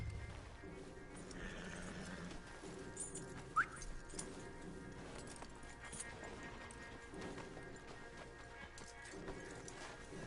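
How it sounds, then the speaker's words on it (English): Horses' hooves clip-clop at a steady, moderate pace in the Red Dead video game, with occasional brief whinnies and a low ambient bed beneath, and no one talking. "Marston, you're gonna tether him up to Javier's horse."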